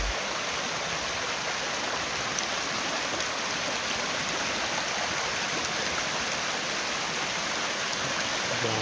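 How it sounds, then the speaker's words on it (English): A small river flowing along the Appalachian Trail, a steady, even rush of water filling the whole clip with no pauses, close by and unbroken. "Yet another little river to cross."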